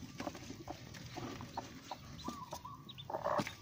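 A black heritage hen with her newly hatched chicks, giving soft clucks and thin high peeps in scattered short bursts, faint and close, on a quiet farmyard background.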